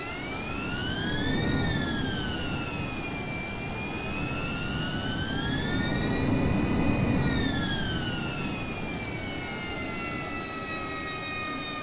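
Twin jet engines of a Honda Jet idle in Microsoft Flight Simulator while parked in the Cayman Islands, a loud continuous roar with a whining turbine tone that rises and falls slowly, close and without talk.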